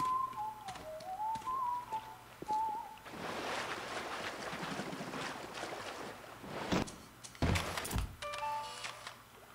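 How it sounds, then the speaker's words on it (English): A melodic whistled tune drifting through the Bioshock game world, wavering notes heard over a dense ambient wash with rumbling, clanks and bursts of in-game noise, no talk. "Let's find out who's whistling."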